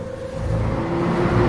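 A cartoon vehicle's engine hums and whirs steadily, swelling slightly louder as it is brought to a stop on a road through a forest at night, with no voices.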